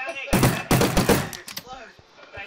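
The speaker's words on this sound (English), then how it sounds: "What's with the sentry sound of the sentry gun?" Sentry gun in a Minecraft-style modded game firing quick bursts of sharp, gunshot-like pops, two loud volleys followed by fainter scattered shots.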